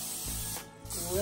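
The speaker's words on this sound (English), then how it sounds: "so spray your pan" Cooking spray hisses out of a can onto a baking pan for Rice Krispie treats in two short close bursts, a brief pause between them, with faint talk nearby.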